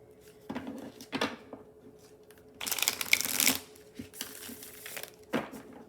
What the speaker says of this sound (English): And I can riffle shuffle, and that is important because I'm a riffle shuffler